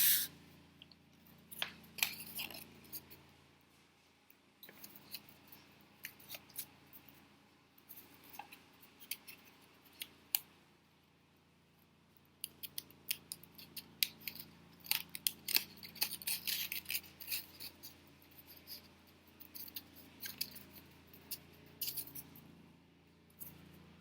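Scissors snip the corners off a paper book cover in a run of short, crisp, irregular cuts close by, with soft rustling paper handling between them and no talking.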